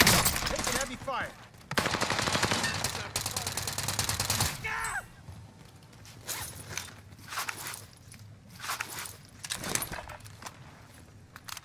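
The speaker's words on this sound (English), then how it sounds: "Taking heavy fire." Rapid automatic machine-gun fire from Call of Duty: Modern Warfare rattles loudly in sustained bursts for several seconds, then gives way to quieter scattered shots and shuffling movement, with faint voices in the background.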